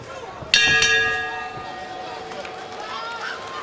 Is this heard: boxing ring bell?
yes